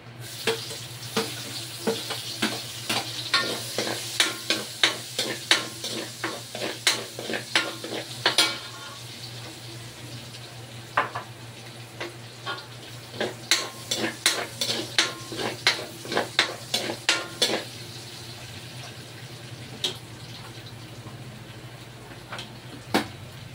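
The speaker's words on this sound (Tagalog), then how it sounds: "Ayan, igisa na natin itong ating bawang." Garlic sautéed in a pan for beef kaldereta, with a low steady sizzle under repeated clinks and scrapes of a utensil stirring against the pan, coming in bursts with quieter pauses and no talking.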